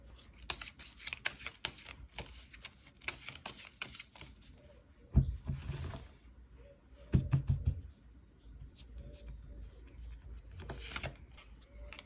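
Tarot cards are drawn and shuffled close by with quick papery riffles and light taps, two louder shuffling bursts in the middle, over a quiet background with no speech.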